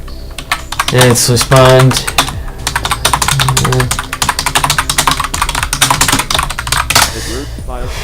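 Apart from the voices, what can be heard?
typing on a computer keyboard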